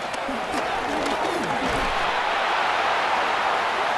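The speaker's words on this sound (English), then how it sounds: "The crowd making their presence felt." Dense stadium crowd noise from a Madden NFL 26 game, Jets versus Steelers, forms a loud, steady roar with a brief burst of voices near the start.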